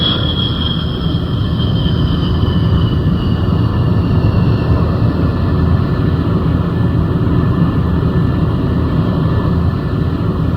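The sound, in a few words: Sabre jet aircraft landing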